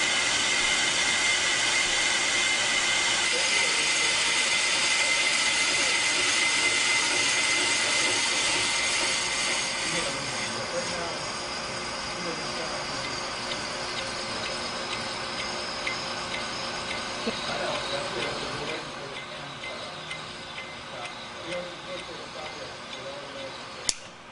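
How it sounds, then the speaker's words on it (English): A Pro-Cut 9-series on-car brake lathe runs a cutting pass on a brake rotor, giving a steady, loud high-pitched machine whine and hum that drops slightly in intensity partway through, with faint ticking and a sharp click near the end. "To start the cutting pass, engage the feed clutch by pushing in the feed knob. The cut will take from 2 to 4 minutes depending on the size of the rotor."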